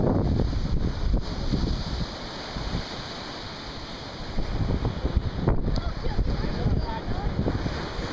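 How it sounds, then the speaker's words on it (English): Ocean surf rolls in at a Cape Cod beach, a constant loud wash of breaking waves with gusting wind buffeting the microphone, close and continuous throughout. "look at the waves, huh?"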